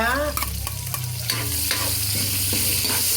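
Ginger dropped into hot cooking oil with garlic and stirred, a loud, close, continuous sizzle and crackle with spoon scrapes through it, no voice.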